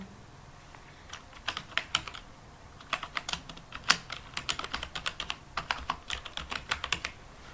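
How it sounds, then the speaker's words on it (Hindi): Someone types an email address on a computer keyboard, producing a quick, uneven run of close, crisp key clicks with no talking. "मैं यहाँ पे ईमेल एड्रेस टाइप करता हूँ।"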